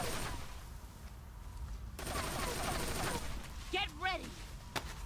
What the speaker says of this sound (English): Her bullets just beat mine.